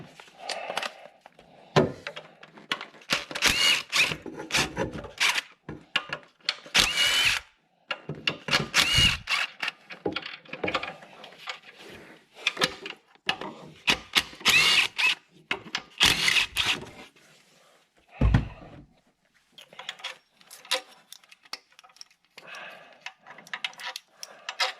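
A power tool works front cover bolts loose on a 2014 Ford Explorer during a water pump job, in repeated short whirring bursts with pauses, metallic clicks and clunks between them, close by and without talk.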